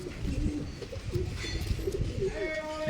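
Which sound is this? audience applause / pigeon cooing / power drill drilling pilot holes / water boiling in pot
pigeon cooing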